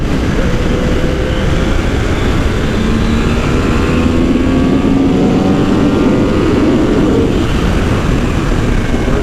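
A 2020 Yamaha R1 engine drones while riding, a loud, steady mechanical roar with slowly rising tones, mixed with heavy wind rush and no pauses.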